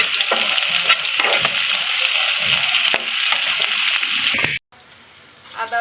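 Chopped onion fries in hot oil in a wok, a loud continuous sizzle with stirring scrapes that cuts out briefly near the end, then resumes more quietly.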